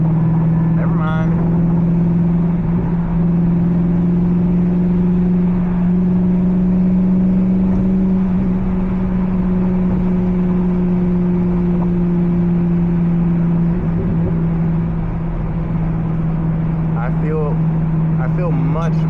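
C5 Corvette engine droning steadily while driving at night, a loud continuous low hum with slight swells in pitch, heard close from inside the car.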